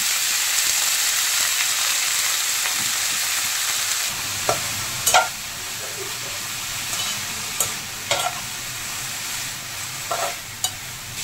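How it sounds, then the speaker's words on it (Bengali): Red amaranth leaves stir-fry in a pan with garlic and black cumin, giving a steady sizzle throughout. The sizzle thickens when the leaves go in around the middle, and occasional sharp scrapes of the stirring spoon cut through it, with no talking. "রসুন বেশ ভালোভাবে ভাজা ভাজা হয়ে গেছে, এবার এর মধ্যে লাল শাক দিয়ে দেব"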